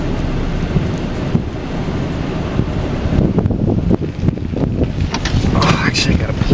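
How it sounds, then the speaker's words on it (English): Gusty thunderstorm wind rolls in over Brunswick, Georgia, buffeting the microphone with a steady loud roar and rain-like hiss throughout. "Here comes the wind."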